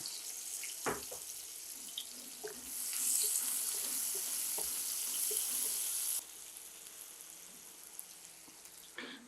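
Onions fry in a pan with a continuous hissing sizzle and a few soft clicks. The hiss swells louder through the middle, then settles back down, with no talking.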